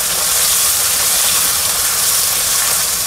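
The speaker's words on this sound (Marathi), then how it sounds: "आता हा कांदा चांगला लालसरपर्यंत भाजून घ्यायचा व्यवस्थित" Two chopped onions frying in a pan while being browned for a chicken curry gravy, a loud, continuous close sizzle and hiss that holds steady throughout.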